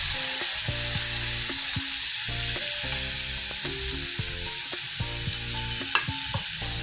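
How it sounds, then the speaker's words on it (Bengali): Onions sizzle and crackle steadily in hot oil left over from frying fish, a dense, close frying hiss that runs throughout with a few clinks of stirring and no talk. "তেলটার মধ্যে আমি পেঁয়াজগুলো সব দিয়ে দিলাম।"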